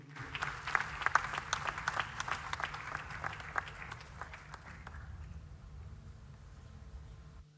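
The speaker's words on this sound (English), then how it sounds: "Shall we, with a big round of applause, welcome the Inspector General of Police" An audience at a media awards ceremony breaks into dense applause that stays strong for a few seconds and then fades into quieter room noise.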